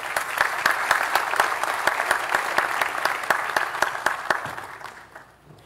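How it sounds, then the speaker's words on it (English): A conference audience applauds at the official opening of a Caribbean investment forum, a steady wash of many clapping hands with a few sharp nearby claps, loud throughout before fading out at the end. "let's keep that applause going for Ms. Lisa Harding"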